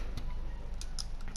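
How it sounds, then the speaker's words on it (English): Clicky computer keyboard keys being typed on, a handful of sharp, close clicks spaced irregularly over a steady background hum. "As you can hear, I got a clicky keyboard."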